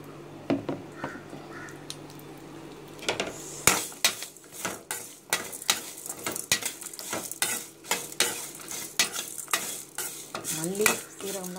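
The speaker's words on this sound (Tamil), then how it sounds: "மல்லி சீரகம்லாம் வதங்கிருச்சு." Coriander seeds and cumin fry in a little oil in a pan, with a quiet sizzle under repeated sharp clinks and scrapes of a spoon against the pan, fairly close.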